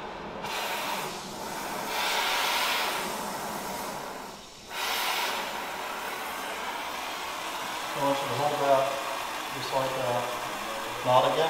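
A brazing torch heats a copper HVAC refrigerant line, giving a steady, loud roaring hiss that carries on throughout, with people talking nearby and a few clinks toward the end.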